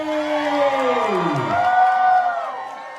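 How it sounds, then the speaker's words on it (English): A crowd at a drag show viewing party in Nashville lets out whoops and cheers, loud and close, with sliding yells rising and falling over about three seconds. "make some noise for Aura Mayari!"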